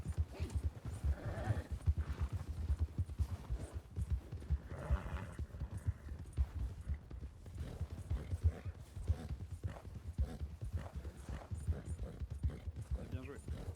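Hooves of a horse-drawn cart clop steadily through a Western roleplay game, a continuous rhythmic clatter with occasional whinnies, sitting under near-constant excited talk from several players.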